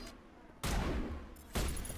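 Gunfire in the Mass Effect video game, fought against Geth robots: two broad, loud bursts of shots that start abruptly and sustain over a steady background din.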